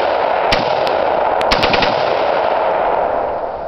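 Rapid bursts of gunfire from a semi-automatic gun fired as if fully automatic, loud sharp cracks in quick clusters over dense continuous rumble, close by, with no talk.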